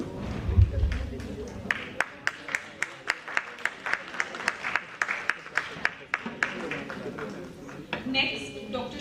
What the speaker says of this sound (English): A big round of applause for Mr. Yacob.